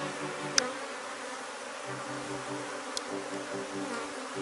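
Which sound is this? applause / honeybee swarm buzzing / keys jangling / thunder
honeybee swarm buzzing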